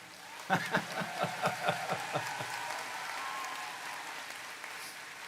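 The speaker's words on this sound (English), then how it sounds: "You're very good at clapping, so keep this up." A graduation ceremony audience breaks into clapping that starts as a few sharp, rhythmic unison claps, then loosens into softer scattered applause and crowd murmur that fades toward the close.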